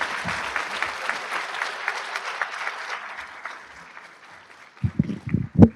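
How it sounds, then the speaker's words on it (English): An audience at a community college honor society induction ceremony claps in a dense, sustained burst of applause that gradually fades, then a few louder thumps and handling noises close by. "Please give him a round of applause"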